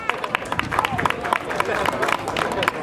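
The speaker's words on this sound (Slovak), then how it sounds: "pani Stanka Opátová, môžem poprosiť potlesk" Steady applause from an audience, many hands clapping in a dense patter with a murmur of voices underneath.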